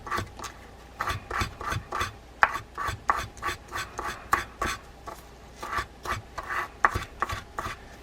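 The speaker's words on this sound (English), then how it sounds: "I'm going to take a bristle brush, pull through the gears." Bristle brush pulled through the pinion gears of a vintage Sears 910 fishing reel: quick, close scratchy rasping strokes in a steady rhythm, about two per second, alone.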